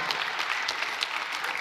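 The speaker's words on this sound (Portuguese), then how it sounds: "pode aplaudir Jesus aí, pode aplaudir" Church audience applauding during a sermon, a steady wash of clapping with no one speaking over it.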